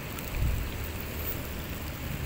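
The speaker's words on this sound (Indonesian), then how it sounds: "Sudah turun hujan ini." Rain falls steadily across a flooded rice paddy during eel fishing, a soft continuous hiss of drops with a faint low rumble, no voices present.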